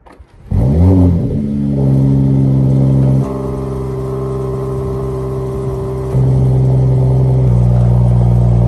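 A Mercedes-AMG E53 Cabriolet inline six-cylinder engine starts up close by, flares in a quick rising rev, then settles into a steady idle with shifts in pitch.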